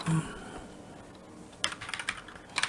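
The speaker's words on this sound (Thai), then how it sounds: "พิมพ์ไปเลยครับ" Computer keyboard typing while entering a VLOOKUP formula in Google Sheets: a short burst of close, quick key clicks after a quiet pause, with a few more taps at the end.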